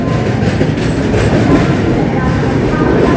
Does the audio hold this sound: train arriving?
yes